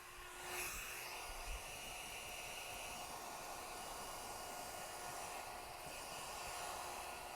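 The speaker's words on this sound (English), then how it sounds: "Notice I keep the blow dryer moving, because if not and I sit it there, it gets real hot" A blow dryer drying a man's hair runs as a steady, even whoosh of airflow throughout, fairly quiet and unbroken, with no talking.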